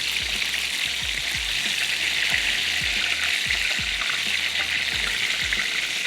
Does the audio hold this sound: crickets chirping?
no